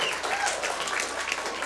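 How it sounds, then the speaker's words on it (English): Studio audience applause at a lively political debate show, a burst of dense clapping heard alone, loud and steady for under two seconds. "Does that deserve an applause or what?"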